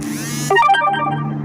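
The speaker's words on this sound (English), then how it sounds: "See, the phone chimed on that too." A phone gives a short bright chime, a quick run of tinkling tones that rises over a steady low hum and fades within a second.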